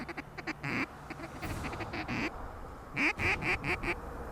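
Ducks quack repeatedly in short bursts over a field, several birds calling close by with a busy cluster of loud quacks near the end.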